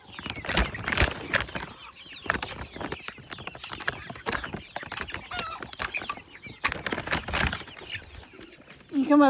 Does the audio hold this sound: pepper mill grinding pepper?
no